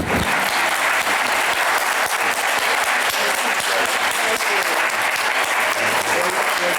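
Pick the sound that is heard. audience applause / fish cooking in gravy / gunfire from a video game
audience applause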